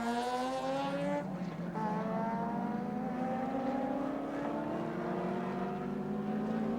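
Touring race cars battle around the Symmons Plains circuit in Tasmania in 1984, engines droning and rising in pitch as they accelerate past, one car's tone dropping sharply early before the pack's whine climbs again, moderately distant.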